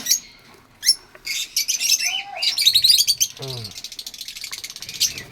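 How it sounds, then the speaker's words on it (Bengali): Pet bird chicks in a breeding box chirp and cheep in quick, high, close bursts, with a few scratchy calls and one lower squawk-like call partway through. "আর এই বক্সটাতে আমার পাখির বাচ্চা আছে"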